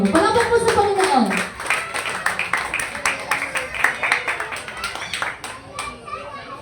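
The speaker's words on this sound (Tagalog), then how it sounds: "Palakpak po sa Panginoon." Congregation clapping during a Sunday church service at a Filipino ministry gathering, a steady rhythmic patter of many hands close by, mixed with voices and some cheering over the run.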